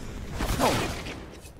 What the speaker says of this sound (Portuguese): já leva o disparo ali do Denis Law